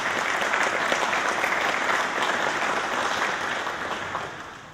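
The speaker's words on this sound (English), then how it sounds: "let's give them a round of applause." A roomful of people at a county Lincoln Days event applauding election judges, clapping thick and steady before gradually thinning toward the end.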